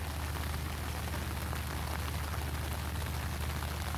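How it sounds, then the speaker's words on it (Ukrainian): Light steady rain falls outdoors near a pond, a continuous soft hiss of drops on surfaces, even and unbroken, with no voices. "Рясненький такий. Рясненький йде. Миленький дощичок."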